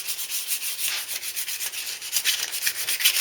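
Satin paint finish is being scuffed off a Bandit motorcycle part, giving a soft, hissy abrasive rubbing in quick repeated back-and-forth strokes, close and steady with no talking.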